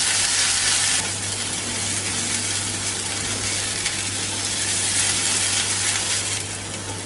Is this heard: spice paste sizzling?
yes